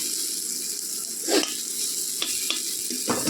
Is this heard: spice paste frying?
yes